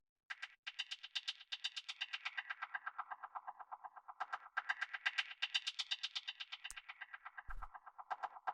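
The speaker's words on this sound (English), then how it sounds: "what this is meant to be is more of like an evolving, sort of changing percussion." A progressive house percussion loop pulses in quick, evenly spaced bright hits with echoing delay tails that shift in texture as it plays, fairly quiet and with no voices.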